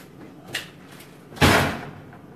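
An oven door in a home kitchen slams shut with one loud, sharp thud, preceded by a fainter knock, with no one talking.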